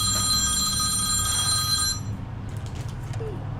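A telephone rings steadily with a bright electronic tone over low background hum, then stops partway through, leaving a quieter room with faint movement.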